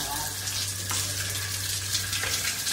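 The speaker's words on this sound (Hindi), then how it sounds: "बारिश। ये देखो" Steady hiss of rain falling, constant and fairly loud, with a low hum underneath.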